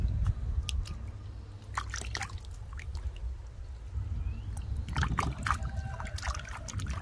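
A giant water lily tuber gets rinsed by hand in water, with irregular trickles, drips and splashes and soft wet squishing, close and moderately loud, busier toward the end.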